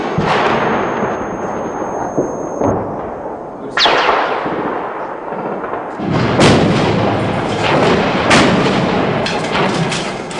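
Heavy incoming gunfire and artillery during fierce street fighting around a besieged hotel in Sarajevo, with loud overlapping bursts of shots, booming impacts and sharp cracks piling up over a continuous roar of combat.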